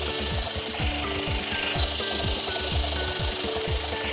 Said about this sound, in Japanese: そこをちょっと削っていきますので。